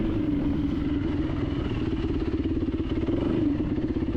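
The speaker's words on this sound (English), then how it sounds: "Poor Trixie, this has been one day riding, and down there she is taking a beating." An enduro motorcycle descending rocky single track at Jawbone, its engine droning steadily and loudly up close with a pulsing, throbbing rhythm and some clatter, with no voices.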